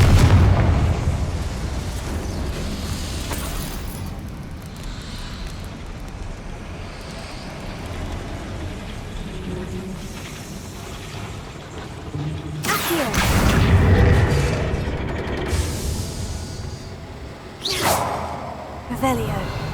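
Confringo fire spell explosions in Hogwarts Legacy land as a pair of loud booming bursts with a whooshing tail, the first near the start and the biggest one two-thirds in, over steady game ambience.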